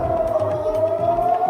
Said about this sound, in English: We're understanding the sirens have been sounded once again in Israel.